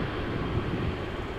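Jet engines of a 22-year-old airliner rotating on takeoff at Amsterdam Schiphol Airport, a steady broadband roar heard from a distance with no talking.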